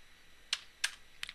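Computer keyboard typing in a networking lab, three or four crisp separate keystrokes spaced out over a quiet background.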